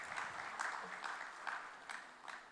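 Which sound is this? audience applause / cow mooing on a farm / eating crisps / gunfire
audience applause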